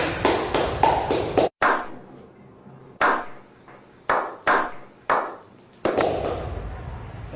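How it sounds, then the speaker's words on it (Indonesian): A small micro-teaching class gives a round of patterned applause: a quick run of sharp claps, then several separate, evenly spaced claps in a quiet room, with no talking. "Tepuk tangan untuk kita semua dulu."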